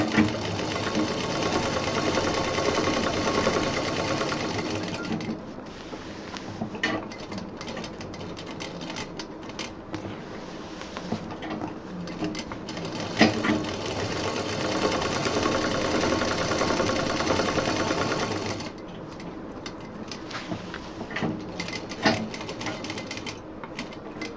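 A sewing machine stitches fabric for a homemade college bag in fast rapid bursts, with a pause midway and brief stops toward the end, close and clear.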